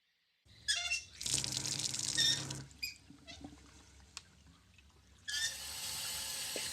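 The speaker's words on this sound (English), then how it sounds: "Running water," A tap runs in a film scene: water gushes in bursts, stops with small clatters between, then flows again steadily, close and moderately loud.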